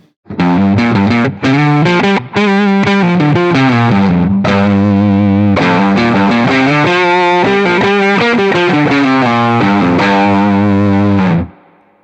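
Electric guitar on the neck pickup through a Boss OD-3 overdrive pedal, playing a continuous run of notes and chords, loud and close, with gritty distortion and short pauses between phrases.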